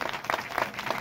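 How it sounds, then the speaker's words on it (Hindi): Audience applause at a devotional gathering with a spiritual teacher at Shani Dham, a dense patter of many hands clapping together, moderately loud and steady with small surges, with no talk over it. "भाई जोरदार तालियों के साथ, गड़गड़ाहट के साथ कहूँ ओर से,"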